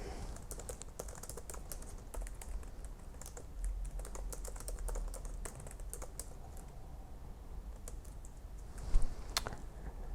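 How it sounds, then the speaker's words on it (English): Steady typing on a computer keyboard, with irregular runs of close, crisp key clicks over faint background hiss and a few louder strokes near the end. "So I'm going to type something in here."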